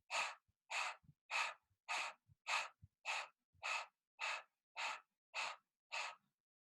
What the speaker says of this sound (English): my go-to practice is just going outside, exercising and doing these kind of breaths